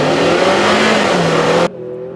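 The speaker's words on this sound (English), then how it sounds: "Let's come to a full stop here and do a quick launch." A 2025 Acura TLX A-Spec in sport mode launching hard from a stop, the engine revving loudly and climbing in pitch before cutting off abruptly into a quieter hum.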